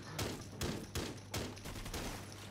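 Rapid gunfire in the video game Rainbow Six Siege, a quick run of sharp, close shots spaced about a third of a second apart over a low rumbling background.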